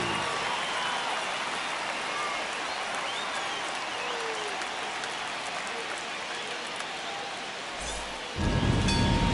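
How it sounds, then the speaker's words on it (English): Stadium crowd noise from a baseball video game, the Mets at the Astros on opening day, a steady, loud roar of cheering and applause throughout that swells louder near the end. "the crowd is amped up, ready to get this season underway"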